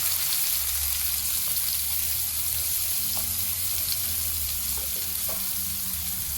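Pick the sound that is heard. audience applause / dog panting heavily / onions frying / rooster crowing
onions frying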